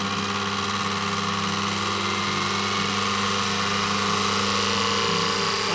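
A DC separately-excited shunt generator runs with a steady mechanical hum and whine that rises gradually in speed and pitch, a continuous even drone close by with no talking.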